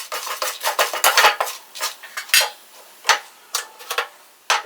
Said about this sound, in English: Fry them until they are crispy and they have turned into golden brown color.